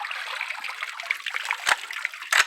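A Colt LE6921 AR-15 rifle lifted out of water, with close splashing and steady trickling drips running off it, then a couple of sharper splashes.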